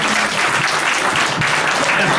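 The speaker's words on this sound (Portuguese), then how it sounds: "Faltava agora vir-me aplaudir." An audience applauds steadily throughout a comedian's talk on humour, a dense, even wash of clapping with no break.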